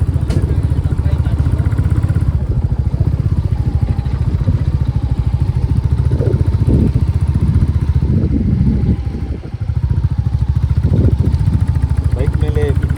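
A motorcycle ridden along the hill roads of Munnar, Kerala, gives a steady, close engine drone with rumbling clatter, nearly unbroken for the whole ride apart from a brief dip, with occasional faint voices underneath.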